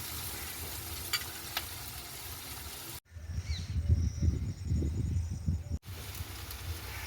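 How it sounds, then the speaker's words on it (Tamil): Onions sautéing in a pan give a continuous close sizzle, with soft stirring and rustling. The sizzle grows louder and fuller partway through. No talking. "இப்போ எங்களுக்கு வெங்காயம் கொஞ்சம் நல்லபடியாக வதங்கி கொண்டு வந்துட்டு"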